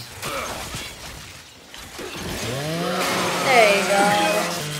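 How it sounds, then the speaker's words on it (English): A Lancer rifle's chainsaw bayonet revs in Gears 5, a rising mechanical whine that swells over the second half, layered with game effects and a voice talking. "So that's how you activate the chainsaw."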